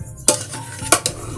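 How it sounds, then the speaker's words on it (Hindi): Chicken dum biryani being gently mixed in a pot, with three quick metallic scrapes and taps of a spoon against the pot, close and distinct over a faint background. "अब मैं हल्के हाथों के साथ आपने इसे मिक्स करना है।"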